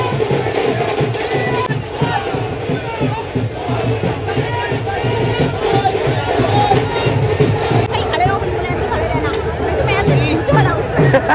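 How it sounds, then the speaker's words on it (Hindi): A dense crowd at a Muharram procession in Gwalior keeps up a steady roar of chatter and shouted chants, close and loud throughout. "देखो वहाँ पे सवारी उठ रही है, कितनी भीड़ हो गई है।"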